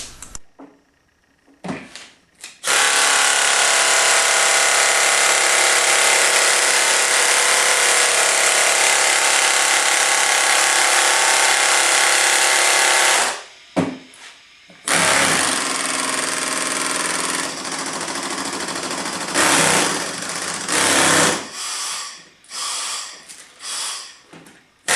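Air inline sanders, a Harbor Freight and a Hutchins Hustler, run one after another in a shop: a loud, steady pneumatic whine for about ten seconds, then shorter bursts and revving stop-start spurts with brief silences between.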